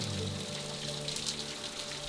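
Rain patters faintly and steadily on a bass fishing boat during practice on Lake Champlain in windy weather, a soft continuous hiss over a low hum.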